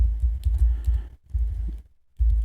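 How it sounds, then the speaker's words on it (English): Someone types a password on a computer keyboard, a quick run of soft, close key clicks in two short bursts split by a brief pause, with no talking. "type in my password"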